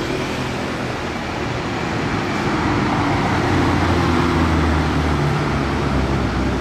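A rare black Ferrari F50 moving through Monaco traffic, a steady loud roar of engine and road noise rising slightly midway, with continuous busy traffic around it.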